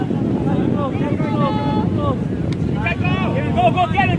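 Wind buffets the microphone with a steady low roar during a live outdoor match, while a voice commentates over it throughout.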